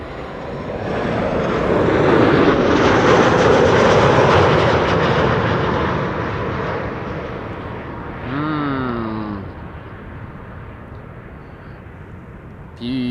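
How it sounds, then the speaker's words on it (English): A Transavia airliner from Pisa roars in to land at Amsterdam Schiphol, loud at first and slowly fading, with a brief wavering tone near the end. "Transavia flight 5426 arriving from Pisa"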